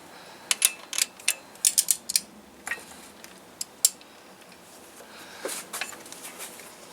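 Ratchet turning a cylinder head bolt on a Kia Forte/Soul 1.8/2.0 Nu engine, a run of sharp close clicks in irregular bursts, then a few softer scattered ticks, with no voices.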